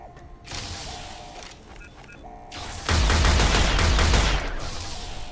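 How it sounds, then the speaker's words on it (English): Gunfire erupts in Fallout (Tale of Two Wastelands), a dense, loud burst of rapid shots lasting over a second, preceded by creaking mechanical clanks and faint tones. "someone's shooting you with fire?"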